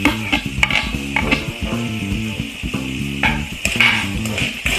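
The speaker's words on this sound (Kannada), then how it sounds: "ಇದನ್ನು ಒಂದು 30 ಸೆಕೆಂಡ್ಸ್ ಈ ಥರ ಕ್ಲೀನಾಗಿ ಫ್ರೈ ಮಾಡ್ಕೊಳ್ಳಿ" Tomatoes frying with ginger garlic paste in a pan for egg biryani, a steady close sizzle broken by repeated scraping stirs of a spoon against the pan, with faint music underneath.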